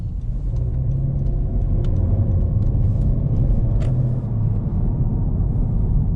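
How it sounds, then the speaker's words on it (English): A new Honda Civic with a CVT accelerates through a left turn at a roundabout, giving a loud, steady low engine and road rumble from inside the cabin with a few faint clicks on top. "we can give it a little bit of beans so that we can test the handling and the acceleration"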